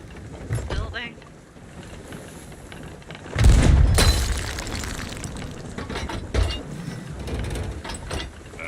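Ship cannon fire in the pirate video game Sea of Thieves, heard as a loud booming blast partway through, with smaller thuds and creaking ship sounds around it, beneath people talking.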